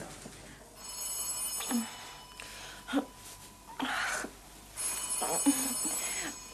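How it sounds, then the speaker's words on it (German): A telephone rings in repeated bursts on a 1970 German crime show, its bell sounding through a quiet room with short pauses between rings and a faint breathy sound in between. "Warum nimmst du denn nicht ab?"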